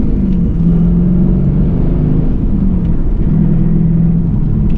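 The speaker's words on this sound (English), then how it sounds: "LS1 under the hood. It is stock except for a spintech muffler." A stock 2001 Trans Am with LS1 V8 and Spintech muffler drives along, its exhaust a deep, steady rumble that swells slightly in bursts of throttle, heard from inside the car with no talking.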